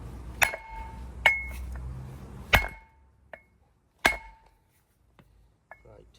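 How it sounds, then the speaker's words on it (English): A copper hammer strikes a socket set against a car wheel bearing, giving four sharp metallic clanks spaced unevenly, followed by a couple of faint taps, close and in a quiet workshop. "find the socket, and I'm going to use it, my copper hammer"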